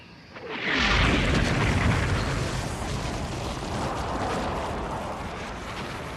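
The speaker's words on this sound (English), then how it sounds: "The whole area from the harbor straight up to the Wang Ni Chong Gap was devastated with a deadly and incessant shelling." Artillery shelling pounds the area from a harbour up to the Wong Nai Chung Gap, a loud booming blast swelling into a continuous heavy rumble of bombardment with no voices.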